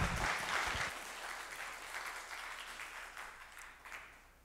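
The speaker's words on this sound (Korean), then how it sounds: "다시 한번 큰 박수 부탁드립니다." Audience applause for a contestant at a university smile festival speech event, a steady wash of clapping from a crowd that is loudest at the start and slowly fades over a few seconds.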